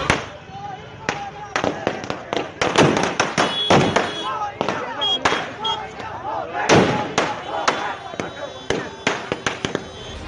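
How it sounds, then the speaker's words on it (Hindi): Firecrackers burst in a dense, irregular string of sharp cracks and bangs at a street celebration after a cricket match, with raised voices and talk underneath. "क्रिकेट में भारत की हार होती है तो पटाखे फोड़ते हैं"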